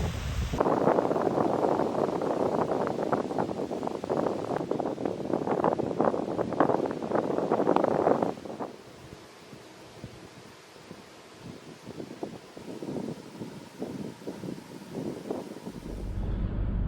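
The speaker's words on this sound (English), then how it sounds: "it's just ridiculously windy" Strong wind roars and buffets the microphone in loud gusts at a lakeside campground with whitecaps on the water, then eases to a lower, fluttering rush before surging again near the end.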